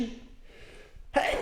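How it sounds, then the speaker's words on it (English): A single sharp sneeze bursts out at the end after a short breathy intake, loud and close. "Anyway, so I'm gonna sneeze."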